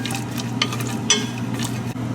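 Cashews and raisins fry in hot ghee, a continuous close sizzle with light stirring scrapes and faint ticks over a low steady hum.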